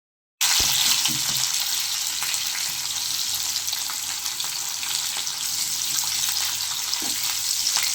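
Curry leaves, onion and garlic sauté in oil for a vendakka chutney, a loud continuous close sizzle with occasional soft stirring knocks from the pan.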